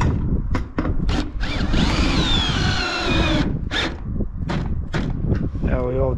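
A power drill drives screws into metal roofing sheets during roof installation, with a sustained whirring run of a couple of seconds between shorter bursts and knocks, close and loud, while a person talks throughout.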